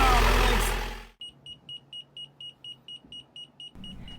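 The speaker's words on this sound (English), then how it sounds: "The autopilot's voltage alarm went off again" A loud rush of noise cuts off, then a sailboat autopilot's voltage alarm repeats steady, even, short, high-pitched electronic beeps over a low background hum.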